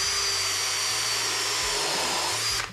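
A power drill bores a countersunk hole into a pine board while building a birdhouse, giving a steady, close, loud whirring grind for about two and a half seconds before spinning down abruptly.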